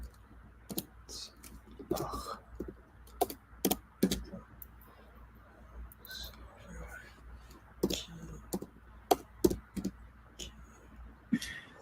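Computer keyboard typing in uneven bursts of close, quiet clicks and key taps, with soft talk faintly underneath.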